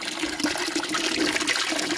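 Sheep drinking water during a drought on a farm, a steady close splashing, trickling wash of water that runs continuously without pause and with no talk.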